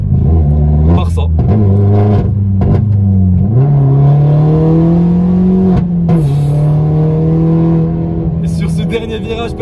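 A Peugeot 208 GTI engine drones loudly and steadily from inside the car while driving, its pitch rising through the revs, with someone talking over it.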